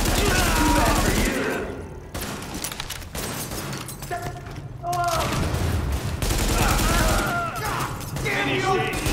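Gunfire in The Division, a loud and sustained exchange of rapid shots with a brief lull in the middle, while voices shout over it.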